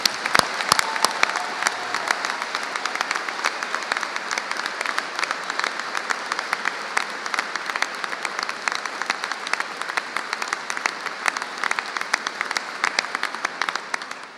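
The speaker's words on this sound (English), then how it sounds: "Perhaps you'd like to join with me in one further round of applause" Sustained applause from a large audience, dense steady clapping throughout that fades slightly at the end.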